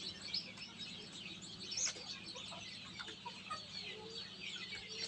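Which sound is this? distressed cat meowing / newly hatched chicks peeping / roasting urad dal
newly hatched chicks peeping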